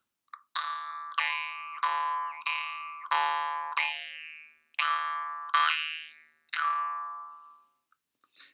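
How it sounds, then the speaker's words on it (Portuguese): A jaw harp (berimbau de boca) twangs in a series of separate plucked notes, each ringing briefly with a shifting, vowel-like tone as the tongue moves within the mouth, then a short pause. "tirando outros sons do berimbau de boca"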